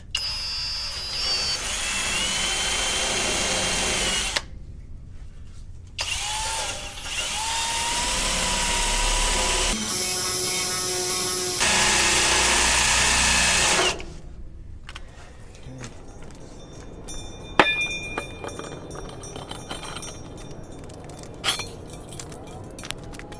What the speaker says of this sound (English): I'm just going to use this wire wheel to try to clean this up a little bit